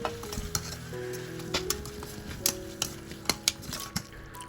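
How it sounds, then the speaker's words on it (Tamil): Soya chunks tumble into oily biryani masala frying in a pan, a steady sizzle with scraping stirs and sharp clinks of a spoon against the vessel in an irregular rhythm, close and alone. "ஸோ இந்த டைமில் நம்ம சோயாலாம் ஆட் பண்ணிக்கலாம்."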